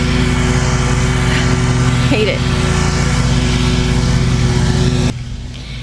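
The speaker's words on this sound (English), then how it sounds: "there's no sound worse than the sound of lawnmowers and leaf blowers" Lawnmowers and leaf blowers running outside a new-build model home community, a loud steady motor drone with a low hum running under a person talking, dropping away abruptly near the end.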